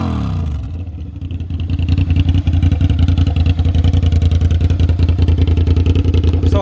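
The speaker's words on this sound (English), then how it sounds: "Do an exhaust note for the guys." A Suzuki SV650 motorcycle idles and then settles into a loud, steady, throbbing exhaust burble heard close up, with a low rapid pulse that stays even throughout.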